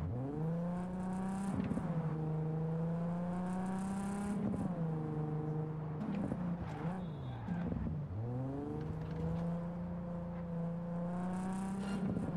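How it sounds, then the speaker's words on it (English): A steady, humming car engine in the video game Cyberpunk drones continuously, its pitch dipping and rising a few times as it slows and speeds up, with a brief whir midway. "I love the sound of the car."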